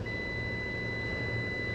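A multimeter continuity buzzer emits one continuous high, steady beep that runs unbroken for nearly two seconds over a faint low hum.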